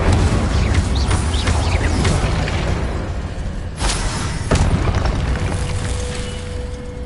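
A fire spell is cast in the Hogwarts Legacy video game, a roaring, whooshing burst of flame that swells into a dense, loud rumble with sharp crackles and a brief bang midway.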